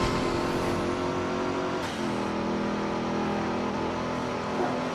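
A Camaro in the PS2 racing game Midnight Club 3 DUB Edition holds a steady high engine drone, dipping briefly as it shifts and then climbing back up, with no talk over it.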